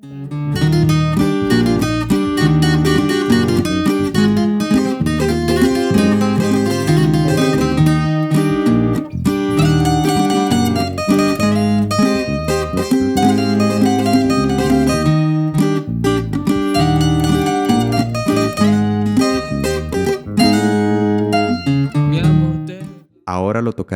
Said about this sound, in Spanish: El segundo requinto a velocidad normal suena así